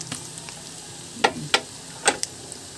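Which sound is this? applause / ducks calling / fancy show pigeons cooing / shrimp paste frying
shrimp paste frying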